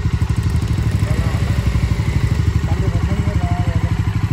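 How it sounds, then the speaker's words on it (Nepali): A motorcycle engine runs close by with a steady, rapid, chugging pulse that stays loud and even from start to finish. "यत्रो बाइक घुमाउँछ नि त"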